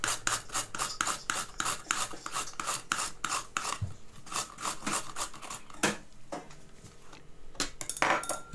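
Peeled cucumber rubbed against a grater for raita, a fast run of rasping strokes for about four seconds, then a pause and a few scattered scrapes and knocks, close and fairly loud with no talking.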